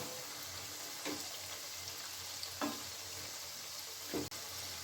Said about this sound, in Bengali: সমস্ত পকোড়াগুলো আমি উল্টে দিচ্ছি